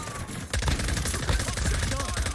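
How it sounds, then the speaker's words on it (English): Dense bursts of automatic gunfire from enemies in the video game Modern Warfare II, a rapid, unbroken crackle that turns louder partway through, with faint game voice chatter mixed in. "I'm taking enemy fire."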